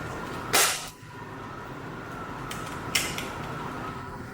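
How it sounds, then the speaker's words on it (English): The cockpit of a 1/14 RC Unimog 535 model truck is lowered and latched into place, giving a plastic creak and snap near the start and a second, softer click a couple of seconds later over a steady background hum. "lower the cockpit back into place. Align the cockpit with the latch to secure it in place."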